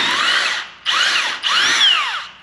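A Caterpillar DX13 cordless power drill whirs loudly up close in three bursts, each spinning up and dipping in pitch, with brief gaps between.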